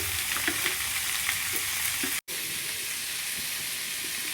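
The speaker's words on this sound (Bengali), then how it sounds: "আর এখানেও দিয়ে দিচ্ছি পেঁয়াজ কুচি" Chopped onion sizzling in a pan for fried rice, a steady broadband frying hiss with faint stirring clicks, briefly cut to silence midway before the sizzle resumes.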